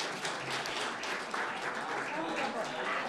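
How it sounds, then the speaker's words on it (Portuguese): Audience applause during a live session broadcast from the Brazilian Senate, a dense crowd clapping mixed with murmuring voices throughout. "Uma salva de palmas para Alexandre de Moraes."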